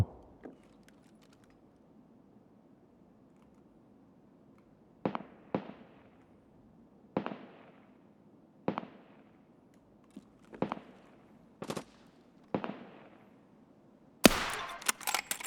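Sharp gunshots crack one at a time at irregular intervals over quiet, then a burst of louder rapid shots at the end, gunfire in the game Escape from Tarkov.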